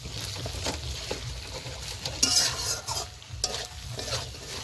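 Snail curry sizzling in oil in a frying pan while a spoon stirs it, with steady frying hiss and scraping strokes throughout, close and fairly loud.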